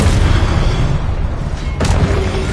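A Confringo fire spell explodes in Hogwarts Legacy with a loud, booming blast over continuous dense game rumble and noise, with a sharp burst standing out near the end.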